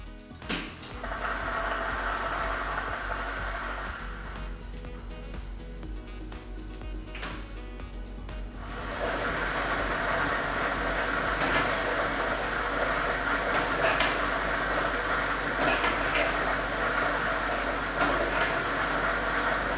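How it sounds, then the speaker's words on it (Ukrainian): A lottery drawing machine starts up with a loud, steady rushing roar as its set of balls tumbles inside, scattered light clacks rising through the noise. The sound continues evenly for about ten seconds with no speech. "Тиражна комісія до початку гри довільно обрала лототрон А комплект кульок номер 1 і ми вмикаємо лототрон"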